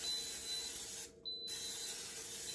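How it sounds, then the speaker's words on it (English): Olive oil cooking spray misted into the bottom of a crock pot set to sauté, a short hissing burst of about a third of a second, fairly quiet over a steady room hum. "I'm just going to take a little bit of spray olive oil."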